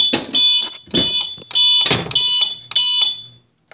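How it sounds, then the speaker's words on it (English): Fire alarm system set off from a manual pull station during a system test, sounding loud repeated tonal alarm bursts, about five pulses with brief gaps between them, with no talking. "we will hit the pull station as well"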